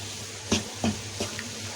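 Besan and suji halwa roasting on a low flame, with a spoon stirring through it: three soft scraping strokes spaced about a third of a second apart over a low, steady sizzle.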